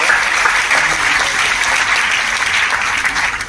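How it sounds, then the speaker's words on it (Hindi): A crowd at a Selfie with Daughter NGO event in Hisar claps together, a dense, loud, continuous round of applause sustained throughout. "तो पहले मैं इन सभी के लिए कुछ तालियां बजाना चाहूंगा।"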